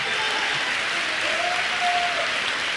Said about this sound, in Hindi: उसके लिए आपके सम्मान में ताली बजनी चाहिए